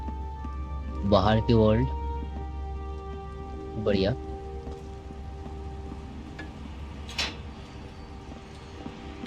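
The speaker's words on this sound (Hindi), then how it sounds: "और बारिश हो रही है।" Steady rain pours over the outdoor world of Karma: The Dark World, a constant hiss and patter throughout, with a voice speaking briefly over it and a few faint knocks.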